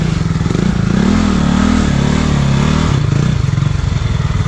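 A Suzuki KingQuad ATV engine idling close by, then revving with a steady throbbing drone as the throttle opens a little, outdoors in a forest.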